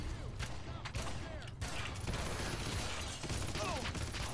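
An enemy fires rockets in the Red Faction shooter game, with loud, dense explosive bursts and mechanical clatter in a steady barrage across the whole stretch.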